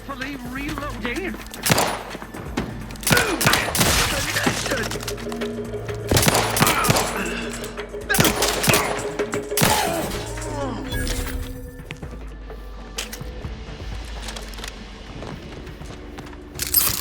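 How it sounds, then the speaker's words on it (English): Gunfire in The Outer Worlds 2: bursts of shots and automatic fire in irregular volleys, loud and close, with crashes and shattering, a low droning background and a voice talking in between. "Did you think shooting up the place was a good idea right now?"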